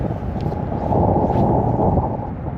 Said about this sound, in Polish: Wiatr wieje na w twarz.